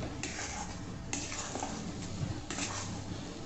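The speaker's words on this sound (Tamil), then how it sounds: "சர்க்கரை சேர்த்து நல்லா மிக்ஸ் பண்ணி விட்டுக்கோங்க." Sugar being stirred into semolina strawberry kesari in a pan, with a few distinct scraping strokes over a steady, low sizzle, close by and without voices.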